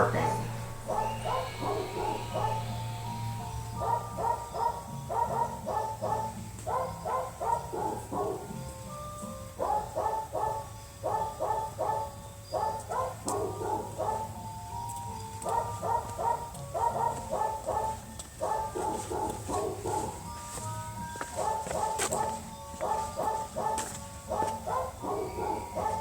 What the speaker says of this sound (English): transition into jingle bells with dogs barking